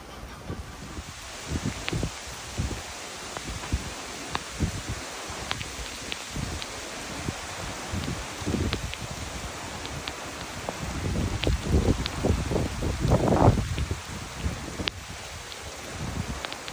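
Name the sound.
tropical storm wind and rain rustling leaves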